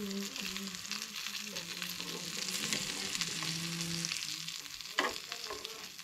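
Mackerel fish frying in a pan in a home kitchen, a continuous crackling sizzle with scattered pops and a sharper burst partway through, heard close up.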